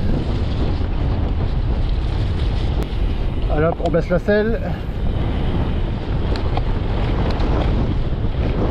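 Loud, constant headwind buffets the microphone while mountain biking, a roaring rush that barely changes, while someone speaks briefly midway through.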